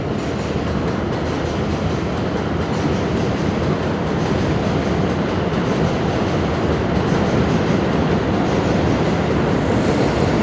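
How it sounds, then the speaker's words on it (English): A train passing by close, a loud, continuous rumbling roar with rhythmic wheel clatter that holds steady throughout, with no voices over it. "Let this train go by real quick."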